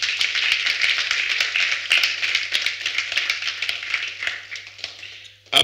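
A church congregation claps together in a sustained, dense burst of applause during a Friday worship service, steady and close, fading briefly before a final loud flurry.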